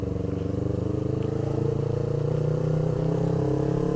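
A Yamaha R25 two-cylinder motorcycle engine, ridden daily, idles close up with a steady, even low throb and a faint rise in pitch near the end, with no talking.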